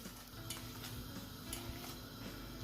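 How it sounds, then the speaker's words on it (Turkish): Mushrooms sautéing over high heat in a pan for a creamy garlic sauce, giving a steady, moderate sizzle and hiss with occasional soft stirring scrapes and utensil ticks, no voices. "Yüksek ateşteyiz. Bak unutma. 3 dakikada bıraktığı suya bakar mısınız? Görüyorsunuz değil mi? Toplam 5 dakika. Soteleyeceğiz."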